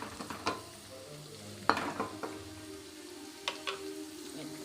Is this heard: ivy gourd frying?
yes